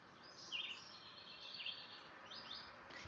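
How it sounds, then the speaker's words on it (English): Several birds chirp and sing outdoors in short repeated phrases, faint and somewhat distant over a soft background hush, with no talking. "You get to hear my birds."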